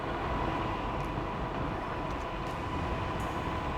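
A Mihogo Air Max carbon fiber dual battery electric bike ridden at full throttle, a steady broadband rushing roar of wind and motion with no distinct motor whine and no voices.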